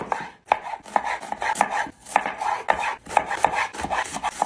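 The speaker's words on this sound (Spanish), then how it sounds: "Picamos una cebolla." A knife chops an onion in quick, steady bursts of sharp cutting strikes on a board, close and fairly loud, with brief pauses between runs and no talking.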